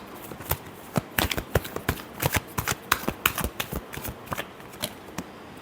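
Tarot cards shuffled by hand in a string of quick, crisp riffling slaps and flutters, close and fairly quiet, irregular bursts for several seconds with no talking.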